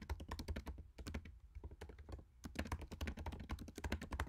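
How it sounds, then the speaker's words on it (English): Rapid typing on a computer keyboard during Xcode app work, a dense run of crisp key clicks close to the mic with a brief pause in the middle. "We're going to come in here and type in something longer."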